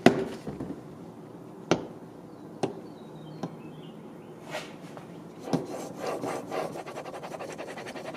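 A Japanese chisel is worked on a fine 3000 grit whetstone, giving soft wet rubbing strokes punctuated by a few sharp taps, then a quicker run of rasping back-and-forth scrapes toward the end.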